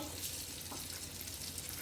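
Mustard seeds sizzling in hot ghee for tempering a paneer curry, a faint, steady crackle and hiss heard close up with no talk.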